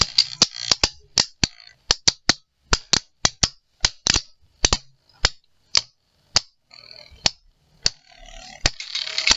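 Sharp, rapid ratcheting clicks from a Beyblade spinning top launcher being wound and pulled, repeated in quick irregular bursts, close and loud with quiet gaps between.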